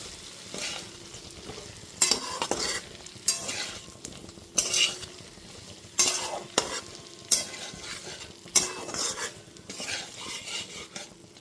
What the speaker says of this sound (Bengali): সমস্ত সয়াবিনগুলোকে দিয়ে দেওয়ার পর খুব ভালো মতো মশলার সাথে 3 থেকে 4 মিনিট ধরে কষিয়ে নেব